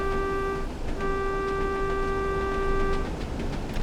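A train horn in the Train Sim World 2 Tees Valley Line sounds a long, steady, fairly close tone with a brief break, over a constant rumbling engine and track background.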